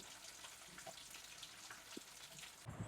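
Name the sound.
crab curry boiling in pot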